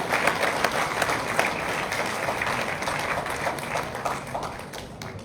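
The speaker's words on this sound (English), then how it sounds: "I know you are in a good mood, so you're going to continue clapping." An audience at an Indian business school convocation in Bhubaneswar keeps up sustained applause, a dense, steady crowd of clapping hands with distinct sharp claps standing out, gradually easing toward the end.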